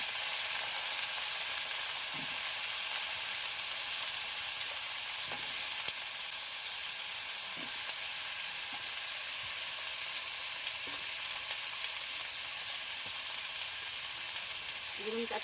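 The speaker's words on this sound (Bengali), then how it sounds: "আর আলুগুলো ভালো করে ভেজে নেব।" Washed potatoes frying in a pan give off a long, unbroken sizzle at an even level, with a few faint clicks of stirring scattered through it.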